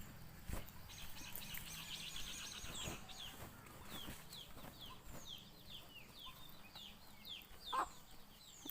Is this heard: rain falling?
no